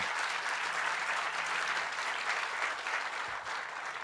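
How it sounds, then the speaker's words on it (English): An outdoor groundbreaking crowd gives the building trades workers a round of applause, steady full clapping from many people at even volume throughout. "Let's give them a round of applause in anticipation."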